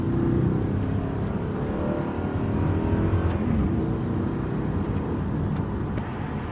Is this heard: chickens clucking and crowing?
no